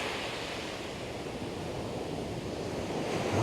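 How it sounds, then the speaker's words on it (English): Choppy sea waves wash steadily on a cold winter morning, a continuous broadband surf roar with wind buffeting the microphone, growing slightly louder toward the end and heard alone. "Sea's a little choppy."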